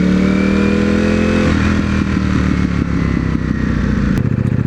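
A motorcycle engine in a video game revs steadily with throttle, a loud continuous tone that shifts pitch midway, with a sharp click near the end.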